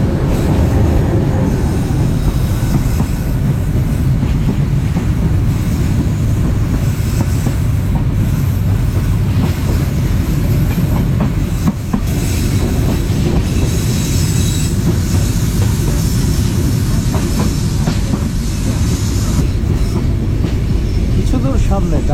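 The Kurigram Express passenger train on the Kurigram to Dhaka route in Bangladesh rolls along the rails with a constant loud rumble, rattling carriages and faint wheel squeal, heard from on board throughout.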